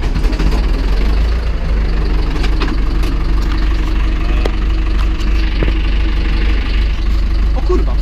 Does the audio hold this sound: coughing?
no